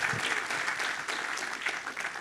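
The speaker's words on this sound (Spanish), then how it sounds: "Dale ese aplauso al Señor" A church congregation applauds during a Spanish-language sermon, dense continuous clapping from many hands, fairly distant and even throughout with no speech over it.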